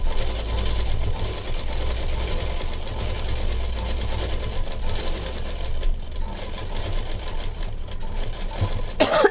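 A sewing machine with a normal presser foot stitching a blouse lining, running as a steady, continuous mechanical whir and hum that stays close and fairly loud throughout, with a brief knock at the end.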